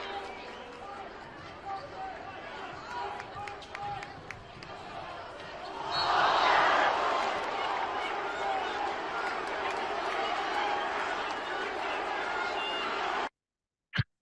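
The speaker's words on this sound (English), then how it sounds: "Did you guys hear the crowd?" Crowd at a basketball game swells into a loud reaction midway through, a burst of cheering and shouting over ongoing court noise and ball bounces, then holds at a raised murmur before cutting off.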